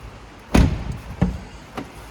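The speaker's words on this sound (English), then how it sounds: "Opening the rear doors" Rear door of a Mini Countryman Business Edition All4 being opened, with a firm latch clunk followed by two lighter knocks, close and alone.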